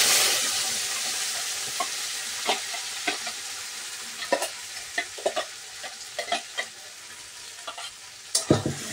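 Boiled onion-garlic paste hits a hot pan and sizzles steadily under a bright hiss. A string of sharp scraping and stirring clicks runs through it and bunches up toward the end.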